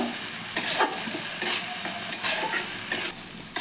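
Ground spice paste is sautéed with lightly fried tomato in a pan and stirred, with a steady sizzle broken by several sharp bursts of spatula scraping and stirring, and no voices.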